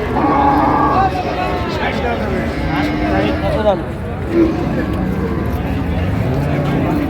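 A cow lets out drawn-out moos among a noisy crowd at the Ambari cattle market in Dinajpur, Bangladesh, with people haggling over prices loudly and close by throughout.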